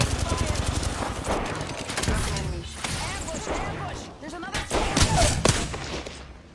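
Rapid bursts of gunfire in the battle game Apex Legends come in dense volleys with sharp cracks and impacts, loud and near, while a player talks over the shooting.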